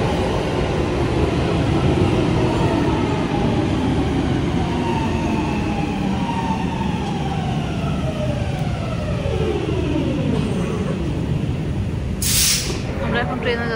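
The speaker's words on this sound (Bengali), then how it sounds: "ট্রেন আসছে" A Helsinki metro train pulls into the station with a loud, continuous rumble and a smooth falling whine as it brakes, then a brief high squeal near the end.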